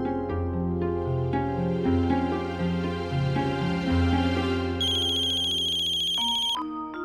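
A phone ringtone plays as a call is placed, a loud melodic electronic tune of stepped tones that rises to brighter, higher notes before cutting off, alone with no voices.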